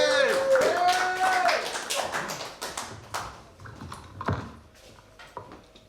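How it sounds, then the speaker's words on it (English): Comedy club audience clapping and stamping their feet during a live show, a burst of scattered, uneven claps and thumps that thin out over several seconds, with someone talking loudly at the start. "As we start stamping our feet, clapping our hands."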